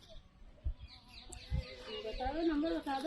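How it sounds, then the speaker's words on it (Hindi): A rooster brought by an elderly vendor for sale clucks and croaks in a short run of calls, close and fairly loud, with people talking nearby. "देखो ये मुर्गा"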